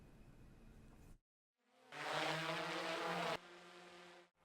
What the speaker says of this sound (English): The sound of drones filled the air at the Aggie Mountain